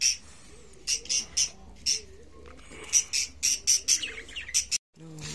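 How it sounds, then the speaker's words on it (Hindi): A parrot with its chicks in a nest, giving repeated short, sharp chirps and calls in bursts, fairly close and loud, with brief pauses between. "ये तोता बैठा है"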